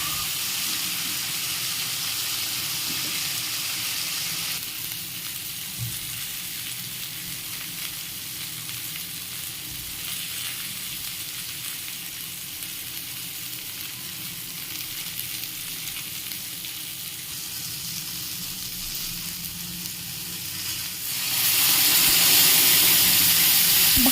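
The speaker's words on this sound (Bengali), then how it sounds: "কড়াইতে আরেকটু তেল দিয়ে 4 ফোড়ন দিয়ে ধুয়ে রাখা বেগুন আলুগুলো" Washed eggplant and potato pieces fry in oil in a wok with a five-spice tempering, giving a loud, continuous close sizzle that swells louder near the end.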